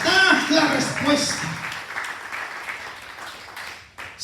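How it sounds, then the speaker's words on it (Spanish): A church congregation breaks into a brief burst of applause, clapping loudly at first and then tapering off, with voices mixing in. "Démosle un aplauso a la palabra de Dios"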